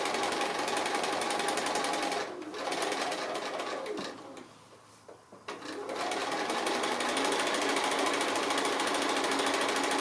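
A sewing machine stitches around the edge of an appliqué icing shape, a fast, even mechanical whir that pauses briefly midway before resuming at full pace, close and loud with no one speaking.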